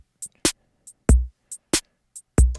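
A sparse drum-only beat: deep kick thumps and sharp snare cracks alternating with light hi-hat ticks, steady and close, with no other instruments.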